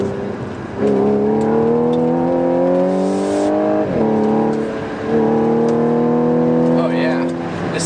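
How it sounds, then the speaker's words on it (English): Audi S4 sedan accelerating on the road at highway speed, a strong rising engine drone climbing through the gears with one shift break, loud and close from inside the cabin, with a person speaking over it. "I just hit 70 miles an hour."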